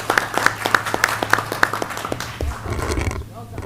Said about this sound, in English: a round of applause to all of y'all for supporting students and for what you guys do